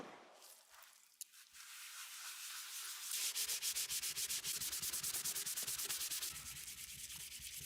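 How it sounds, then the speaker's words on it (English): Plastic is polished by hand with Novus plastic polish, starting with the No. 3 compound: a soft rubbing that builds into steady, rapid back-and-forth strokes, close and fairly quiet, with no voices. "I spent a few minutes polishing both sides"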